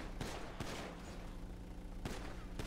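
Gunfire in GTA 5 roleplay: a few sharp, loud shots spaced irregularly, with steady noisy game background between them and no talking.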